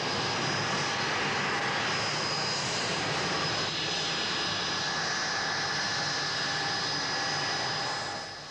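A Blackburn Buccaneer jet roars steadily as a loud sustained whine and broadband rush, fading slightly at the end, with no talk over it.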